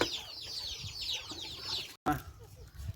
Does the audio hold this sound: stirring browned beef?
no